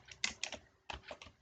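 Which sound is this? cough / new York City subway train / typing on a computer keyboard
typing on a computer keyboard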